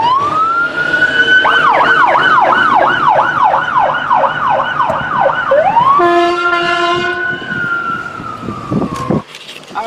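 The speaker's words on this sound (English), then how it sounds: "I'd hate to be in that ambulance." A wailing ambulance siren sweeps past on a city street corner near Beverly and Fairfax in Los Angeles, loud and close, its rising-falling wail shifting to a steady tone as it goes by.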